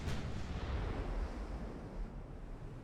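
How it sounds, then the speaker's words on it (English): Heavy naval gun ranging shot from a battleship salvo of three barrels in Ultimate Admiral Dreadnoughts, a sharp blast at the start followed by a long, deep rumbling roar that slowly fades, with no talk. "I think that was a ranging shot, because they tend to do ranging shots only with 3 barrels, not all the guns"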